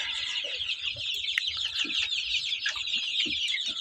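A hen with newly hatched chicks clucks nearby in short, repeated soft calls, while high, thin chick peeps chatter constantly over the top, close and steady without any talk.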